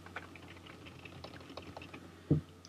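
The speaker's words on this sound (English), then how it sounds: "let's type in your name, email," Keys clatter on a computer keyboard as a name and email are entered into a web form, a run of light irregular clicks with one heavier thump near the end, close and alone over faint room hum.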